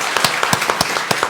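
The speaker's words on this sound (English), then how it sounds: "A big applause for them," Audience applause at an evening event for Arab Heritage Month at Aberdeen Centre in Moncton: a handful of sharp, evenly spaced claps, close and fairly loud, with no voices.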